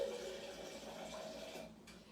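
Cold tap water poured over soaked beans to top them up, a faint steady stream splashing into water for about two seconds before tapering off.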